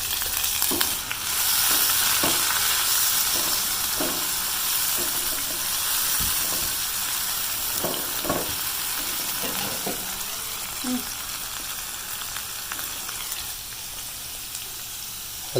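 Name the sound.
daal mash frying and sizzling in pan after adding water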